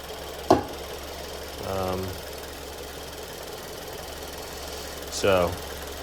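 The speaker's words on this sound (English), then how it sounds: "you can hear it idling" A 2014 Ford Escape EcoBoost engine idles with a steady, low rumble, while a few brief voice sounds rise over it.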